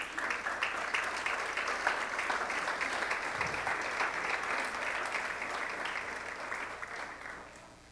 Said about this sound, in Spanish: ¿Por qué no le damos un aplauso al Señor Jesús?